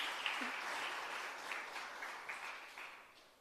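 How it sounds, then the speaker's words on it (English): Applause from an audience at a hybrid capacity-building workshop, a steady soft wash of clapping that holds for a few seconds and slowly fades, heard fairly distant and faint. "Can we have an applause for the..."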